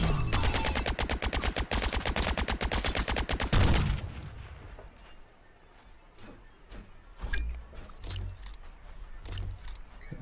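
Weapons fire in The Signal From Tolva video game, beginning with a loud, rapid automatic burst of evenly spaced shots, then sparser, fainter single shots and impacts scattered at a distance.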